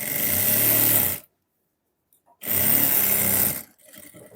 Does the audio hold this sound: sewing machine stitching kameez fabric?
yes